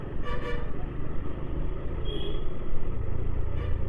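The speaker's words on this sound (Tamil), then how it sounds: "கர்நாடகாவோட ரிஜிஸ்ட்ரேஷன் நம்பர் வண்டி ஒன்று போயிட்டுருக்கு முன்னாடி" Vehicle travelling along a poor road behind a car with Karnataka registration, a steady low engine and tyre rumble with road noise that swells slightly toward the end, close and continuous.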